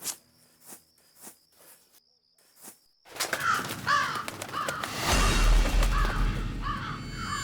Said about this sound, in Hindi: कौओं की आवाज